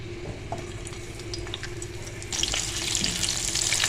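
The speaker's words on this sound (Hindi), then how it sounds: "मिर्चों को हमने फ्राई कर लेना" Stuffed green chillies frying in hot tempering oil for achari daal, a soft sizzle that swells into a brighter, louder crackle partway through, with no talking.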